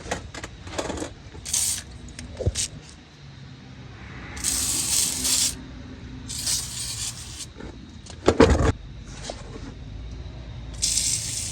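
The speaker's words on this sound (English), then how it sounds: "what we're gonna do is spray these hangers" Short hissing bursts from an aerosol can spraying lubricant onto exhaust hangers of a Ford Super Duty pickup, several sprays of varying length, mixed with metallic clinks and knocks nearby.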